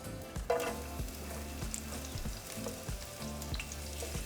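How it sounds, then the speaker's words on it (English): Chopped onion sizzles and crackles in hot oil in a large frying pan, a steady loud fry with occasional stirring clatters and spatula scrapes, no voices. "once our oil is hot, we're going to throw in our onion"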